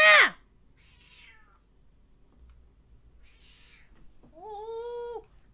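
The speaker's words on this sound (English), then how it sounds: "Look at the kitty!" A cat meows a few times, faint and intermittent, with a sharper cry at the start and a longer, clearer meow near the end.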